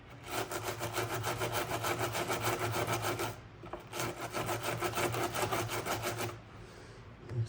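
Rhythmic scraping strokes wear away plastic bodywork on a Polaris Outlaw 90 ATV, two long, steady, close rasping runs with a brief pause between them.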